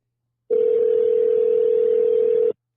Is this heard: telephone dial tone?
yes